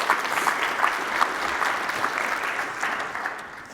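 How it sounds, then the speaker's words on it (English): Audience applause at a patient colloquium, a steady wash of clapping from a seated crowd that carries on for several seconds before gradually thinning out. "So we just applaud these two young ladies."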